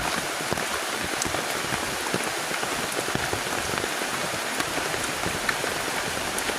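Steady rain pattering on a surface close by, dense and continuous with scattered individual drops, and no talking.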